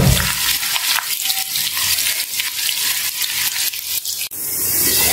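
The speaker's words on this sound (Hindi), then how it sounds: "प्याज को सुनहरा होने तक फ्राई करेंगे।" Three onions sizzling in about 1.5 cups of hot oil in a pan, a loud continuous frying hiss with occasional stirring scrapes and a brief clatter near the end, no talking.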